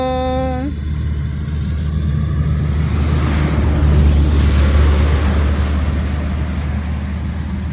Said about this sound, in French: il y a notre super copain qui repasse avec son camion